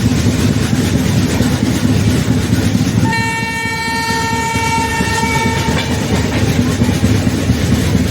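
The Cholan Express rolls toward Thanjavur station, its carriages rumbling and clattering loudly up close while a long, sustained train horn sounds through the middle of the passage over the continuous rail noise.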